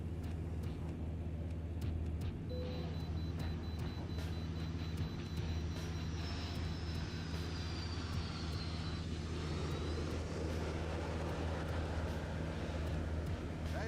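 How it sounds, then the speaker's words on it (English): A Boeing 737 airliner on final approach and landing gives off a continuous, loud engine roar and rushing drone that holds steady, with a faint rising whine partway through and no voices. "Up above, the 737 is on final approach."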